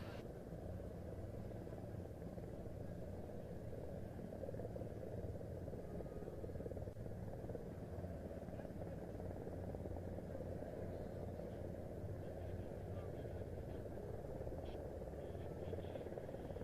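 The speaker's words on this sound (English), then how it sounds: "We turn our attention skyward now as our helicopters come by" Steady low rotor and engine drone of helicopters flying overhead at the Saudi GA Airshow 2025, a continuous rumble that holds level throughout with no talking.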